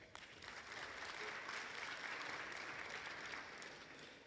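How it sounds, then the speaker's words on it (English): An audience at a university student council inauguration ceremony applauds the outgoing council members, a dense, steady wash of clapping that holds evenly throughout with no talk over it. "Please give them a round of applause."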